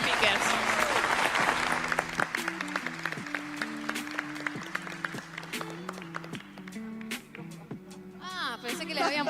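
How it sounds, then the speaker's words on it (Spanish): An audience at an art and jewellery technology panel bursts into applause for the speakers, loud at first and gradually thinning, while a melodic music cue plays underneath and sharp individual claps punctuate the end. "un fuerte aplauso para les speakers"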